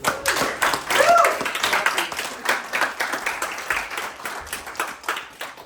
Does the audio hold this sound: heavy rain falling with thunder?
no